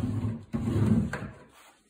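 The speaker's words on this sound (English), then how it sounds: "Pull out drawers." A drawer slides out of a storage cabinet in a fishing-gear room, a near rumbling glide with a soft knock partway through, fading out at the end.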